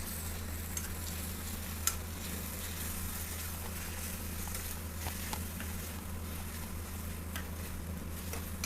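Ginger-garlic paste masala for paneer masala being stirred and fried in a pan, giving a steady, dense sizzle throughout with faint scraping ticks from stirring; no voices.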